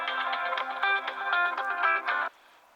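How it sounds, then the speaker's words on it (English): A mobile phone ringtone plays a bright, repeating electronic melody in quick pulses, fairly loud and alone, then cuts off abruptly. "my phone is ringing"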